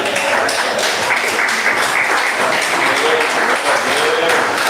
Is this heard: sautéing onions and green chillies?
no